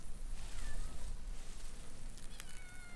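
A cat near catnip gives a couple of short, faint meows over quiet outdoor background noise.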